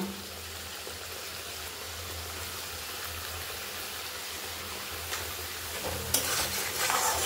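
Masala with tomato and potato fries in a pan for a fish curry. A steady close sizzle runs throughout, broken by occasional stirring scrapes, with a brighter hiss near the end.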